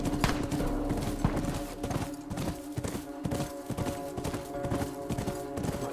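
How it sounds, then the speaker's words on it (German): Rapid, steady hoofbeats of a galloping horse clatter rhythmically over a busy, dense soundscape in The Last of Us Remastered, fairly faint overall. "Nicht das Pferd erschießen, nicht Kellis."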